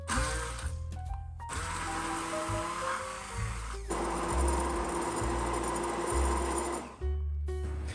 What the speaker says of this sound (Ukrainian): перебиває занурювальним блендером до однорідної консистенції